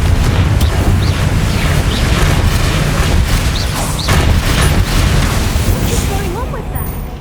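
Bombarda and Confringo spells in Hogwarts Legacy erupt in loud, continuous rumbling blasts and bursts layered with crackles, with a voice speaking over the din.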